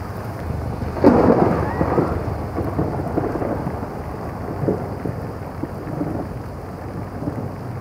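A thunderclap rumbles loudly about one second in and rolls off slowly over steady heavy rain hissing on surfaces.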